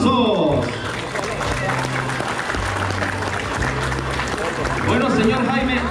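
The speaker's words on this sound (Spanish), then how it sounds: "recibamos con fuertes aplausos a su padre, el señor Jaime" Guests at a quinceañera clap loudly to welcome the girl's father, a steady dense applause mixed with crowd chatter, while someone speaks over it on a microphone.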